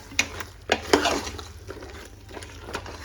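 Ground masala being stirred into a cooking pot for an egg and chicken bassaru, with soft scraping strokes and a few sharper clinks of a spoon against the metal, close and steady with no talking.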